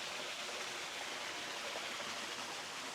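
A waterfall beside a private pool at a jungle villa in Ubud, Bali, makes a soft, continuous rushing wash heard from some distance, faint and even throughout.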